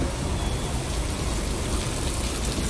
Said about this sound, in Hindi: ये देखो बारिश, देखो जब बारिश हो रही है यार